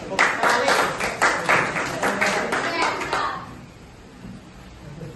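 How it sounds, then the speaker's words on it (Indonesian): Classroom applause from a group of students, a burst of many hands clapping close by for about three seconds before fading into quiet room tone. "Oke, beri tepuk tangan buat Quick."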